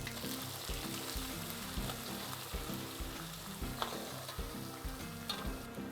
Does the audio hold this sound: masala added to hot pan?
yes